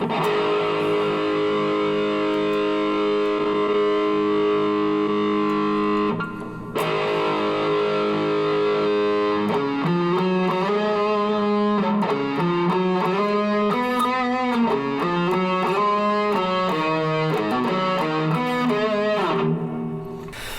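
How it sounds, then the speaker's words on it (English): An electric guitar plays through a Fender Mustang 1 V2 amp with a lush plate reverb. Sustained chords ring out first, then a run of picked notes, with no talking. "I'm going to try a plate reverb."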